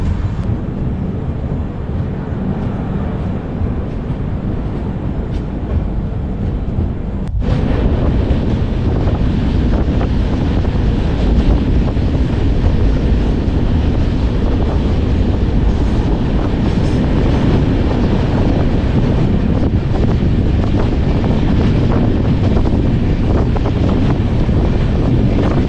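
The Howrah Puri Superfast Express 12837 rumbles along its tracks with steady, loud wheel-and-carriage noise and heavy wind buffeting the microphone. The din grows denser after a sharp break early on and carries on unbroken with no voices.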